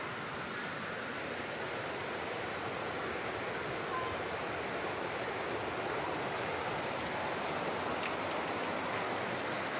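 Water from a shower runs in a steady, even hiss without pause, fairly faint and with no voices over it.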